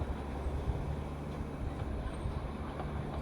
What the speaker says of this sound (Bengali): UNESCO world heritage property toy train এসে গেল।